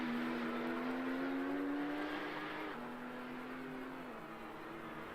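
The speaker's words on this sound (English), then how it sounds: "Great sound from these Porsches." Porsche Carrera Cup race cars run at Oulton Park in 2007 with a loud, sustained engine drone. The pitch climbs steadily, drops at a gear change, then holds and eases slightly. No one speaks.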